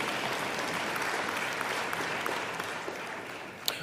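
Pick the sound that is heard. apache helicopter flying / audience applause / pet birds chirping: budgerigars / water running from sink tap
audience applause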